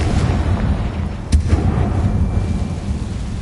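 Confringo blasting spell in Hogwarts Legacy, a single sharp explosive crack midway through, set against a continuous low rumbling, thunder-like background that stays loud and heavy.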